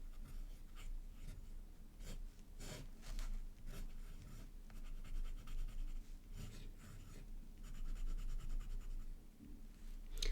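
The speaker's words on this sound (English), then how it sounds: "this writes really nicely. The Benu Pixie." A Benu Pixie fountain pen with a broad nib scratching across paper, close and soft, with rhythmic strokes and short pauses continuing throughout.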